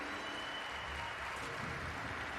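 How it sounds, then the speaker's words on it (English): Arena crowd cheering and applauding at The International 2021 Dota 2 tournament, a steady broad roar of noise sustained throughout under the event's ambience. "You can hear the crowd right now."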